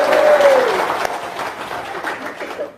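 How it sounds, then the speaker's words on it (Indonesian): A crowd applauds at a gathering, a broad wash of clapping that starts strong and slowly eases, with a brief voice sounding over it at the start. "tepuk tangan dong, luar biasa"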